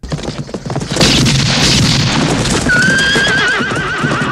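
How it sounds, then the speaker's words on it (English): Horses whinny loudly in a 1968 western film scene, a long wavering neigh rising over a dense mix of hoofbeats and gunfire-like bangs that fill the whole clip. "Okay, and the horses are coming."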